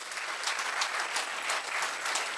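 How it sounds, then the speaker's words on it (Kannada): An audience at an educational institutions' federation event applauds, giving a brief, dense patter of many hands clapping at moderate distance with no talk over it. "ಜೋರಾಗಿ ಒಂದು ಚಪ್ಪಾಳೆ ಕೊಡಿ."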